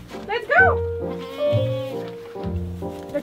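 Sheep and goats bleat several times at close range in a farmyard as the animals are let out of their shed in the morning. The loud, wavering calls overlap one another.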